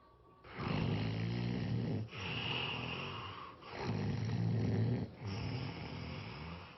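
A person snoring in bed, four long rasping inhaled snores in a steady rhythm, each about a second and a half with brief gaps between, loud and close with no talking.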